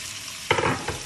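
Salmon pieces hit hot oil with onion over high heat, a short burst of crackling sizzle and stirring after a quiet start, then a second brief crackle.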